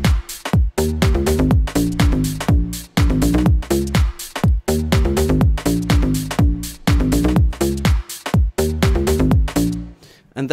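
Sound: synthesizer future house bass sound

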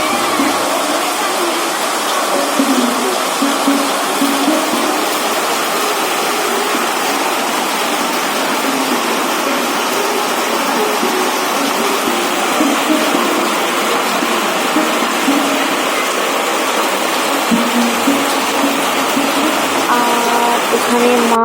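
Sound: heavy rain falling all day

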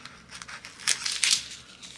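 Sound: cutting paper with scissors

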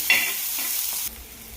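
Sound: eggplant added to sautéed onion, frying in pan

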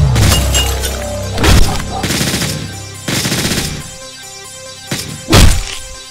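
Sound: gunfire in the video game Hotline Miami 2

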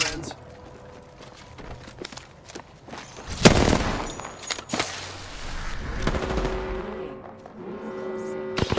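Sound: gunfire in the video game Apex Legends

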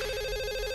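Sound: telephone ringing

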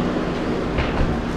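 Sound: exhaust of an old Mercedes 240

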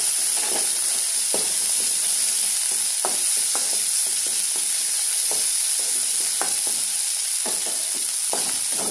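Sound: green chillies added to frying fish in oil

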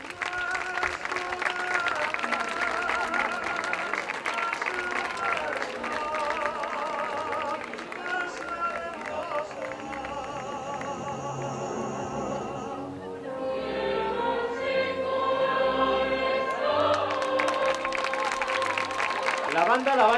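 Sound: audience applause

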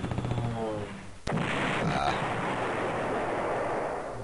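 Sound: units firing in an attack, from the video game Panzer General

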